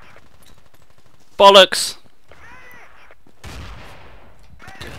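Gunfire in the Battlefield 2 video game: a short, loud burst of shots rings out, quickly followed by a sharp exclamation, and then quieter scattered noise continues.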